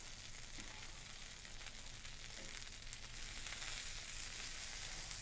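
Bacon-wrapped cheeseburger dogs sizzle steadily on a 36-inch Blackstone griddle at low heat, a dense continuous frying hiss with a few faint scrapes, close and even throughout.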